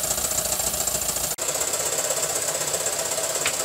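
An axle pump on an O gauge live steam locomotive runs while the engine raises steam, making a steady, fast mechanical ticking and knocking with one brief dropout, close and fairly loud, with no voices.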